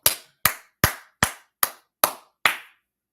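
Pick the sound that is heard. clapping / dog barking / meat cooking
clapping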